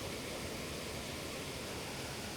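Creek water rushes steadily over a small waterfall, a dense, even roar close by with no breaks or other sounds.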